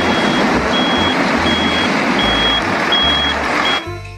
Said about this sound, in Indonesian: Wih, mobil truk molen juga ada teman-teman.